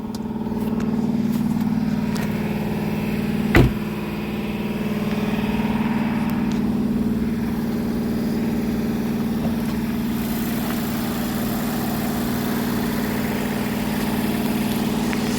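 A 2019 Volvo S60 T6 Inscription's 2-liter inline four-cylinder engine idles steadily with a low, even hum, recorded close under the open hood, with one brief sharp clunk early on and no talking.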